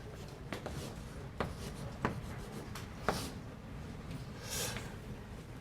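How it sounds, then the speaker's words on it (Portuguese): Chalk or marker strokes on a board during a university calculus lecture, a series of short scratchy taps and rubs spread over several seconds, fairly close, with no talking. "eu vou escrever assim."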